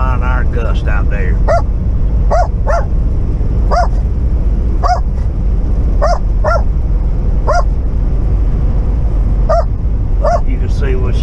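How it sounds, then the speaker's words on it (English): A dog barks at wind turbines on a gusty day beside Interstate 40 near Adrian, Texas, repeated sharp barks and yips spaced a second or two apart over loud continuous wind rumble. "You can see what she's barking at"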